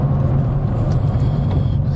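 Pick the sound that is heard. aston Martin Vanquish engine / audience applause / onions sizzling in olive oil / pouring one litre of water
aston Martin Vanquish engine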